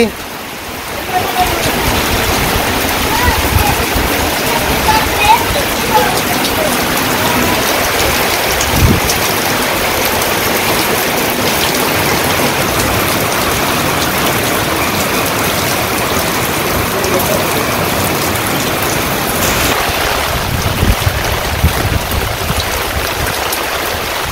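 Heavy rain pours down in a windy Bangladeshi village, a loud unbroken wash of drops and gusts that stays dense throughout, with a voice talking faintly beneath it.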